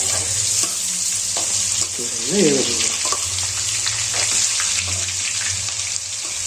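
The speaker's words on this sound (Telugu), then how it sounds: "బాగా డీప్ ఫ్రై అయ్యే విధంగా చూసుకోవాలి" Chicken pieces deep-frying in oil for a crispy chicken dish give off a dense, continuous sizzle with some stirring noise and a brief faint voice-like sound partway through.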